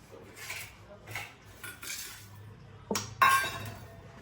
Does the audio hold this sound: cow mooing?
no